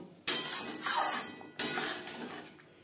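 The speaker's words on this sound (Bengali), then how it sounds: "গ্রেভির সাথে মাছ বেশ ভালো করে মিক্সড করে দেব।" A spatula scrapes and clinks against a pan while fried fish is stirred into a Bengali pakal fish curry gravy, two sharp metallic knocks each followed by a short scraping stretch, fairly close and moderately quiet.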